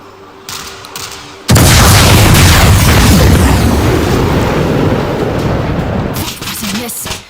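A missile launcher firing in the World War Z video game set in Marseille: a sudden massive boom erupts into a long roaring blast and rumble lasting several seconds before fading, with game sounds around it.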